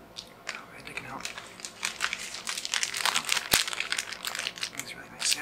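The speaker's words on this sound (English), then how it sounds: "And this really nice plastic bag." Crisp plastic crinkling and rustling close up, irregular bursts of crackle continuing throughout with a sharp snap near the middle.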